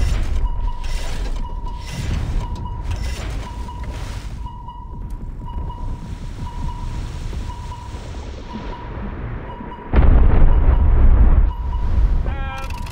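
A submarine fires a torpedo in War Thunder Mobile, with mechanical whirring and hum from the launch followed by a heavy booming blast near the end, all under a repeating sonar-like tone.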